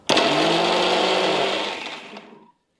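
Steady loud whir of a mixer grinder blending poha roti dough after water is added, running evenly before slowing to a halt near the end.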